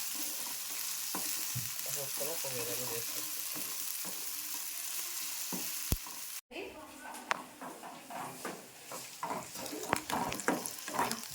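Green chilies and onions sizzling steadily in a pan for a spinach and greens curry, then stirred with scrapes and clinks toward the end; a voice talks over the cooking.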